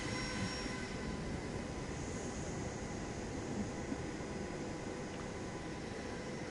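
A Boeing 737 MAX jet engine roars in a flight simulator during takeoff, a dense, steady broadband rumble with constant loudness throughout and no voices.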